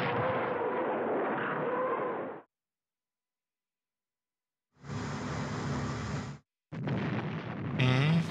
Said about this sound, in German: Die Zerstörer schießen wieder.